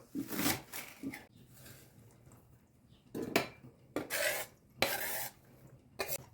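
Chopped green onion and dill being stirred together in a bowl with a utensil, heard as close, uneven scraping and clinking strokes in bursts separated by short pauses.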